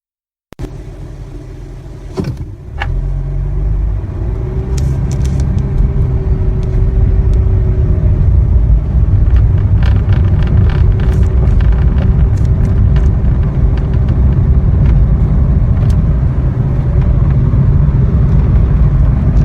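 Nissan or Renault car with a Jatco CVT cruising at a steady 2000 RPM, a continuous low engine and road rumble that holds level without rising or falling, heard from inside after a brief knock at the start.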